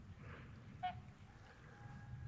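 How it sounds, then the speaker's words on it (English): A single goose-like honk rings out faintly at a lake where snow geese and trumpeter swans gather, over quiet low rumbling background. "See some Canadian snow geese in there."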